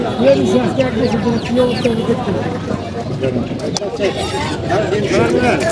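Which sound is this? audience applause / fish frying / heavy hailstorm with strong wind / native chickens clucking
native chickens clucking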